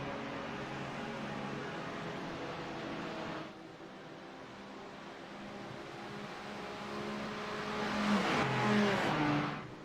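GT4 race cars, a Mercedes among them, lapping at Daytona during a season finale, engines droning steadily then rising as one revs harder and passes close, loud and with no voices over them.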